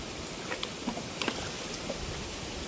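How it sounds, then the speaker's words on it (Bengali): Light rain in the Sundarbans tiger forest under cloudy, windy skies: a faint, steady patter with a few scattered nearer drops and no voices. "একটু মেঘলা ওয়েদার যার জন্য মাঝে মাঝে বৃষ্টি হচ্ছে"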